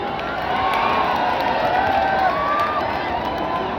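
A vast crowd roars and cheers continuously at a BSP rally led by Mayawati, the dense outdoor din of voices holding steady and loud from start to finish.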